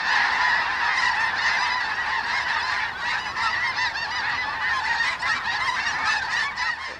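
A large flock of snow geese honks continuously at close range during a spring light-goose hunt over decoys and e-callers in Illinois, the dense overlapping calls filling the air with no talking.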